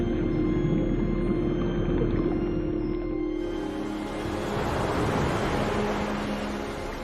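Ocean surf at Yonaguni, Japan: a continuous wash of breaking waves, a low rushing roar that swells slightly in the second half, with a steady tonal drone underneath early on.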